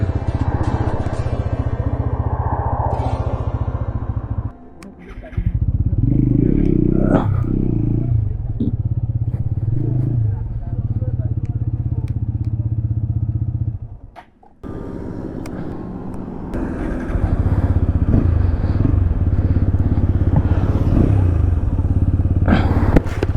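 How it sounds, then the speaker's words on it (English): A TVS Apache RTR 200 4V motorcycle's exhaust note rumbles loud and close, rising and falling as the engine revs, with a couple of brief drops where the throttle is cut before it picks back up. "you can hear the sound of exhaust for a longer amount of time without getting bored"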